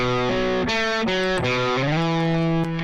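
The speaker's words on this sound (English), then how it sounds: "This is how this guitar sounds without any plugin." A clean electric guitar plays a short melodic phrase, individual notes ringing out clearly and steadily, close and moderately loud with no voices.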